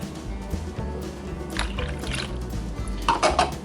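Water poured into a bowl of eggs and milk for funnel cake batter, a soft steady trickle with light splashing and bowl clatter, rising briefly near the end.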